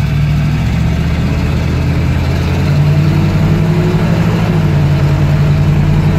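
A 1976 GMC Jimmy's engine runs loud and steady with an automatic transmission shifting from first to second gear, the tone stepping to a new pitch partway through, with no voices.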